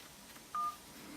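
A single short telephone keypad tone from a Motorola Devour phone beeps once over faint background hiss, clear and steady for a split second.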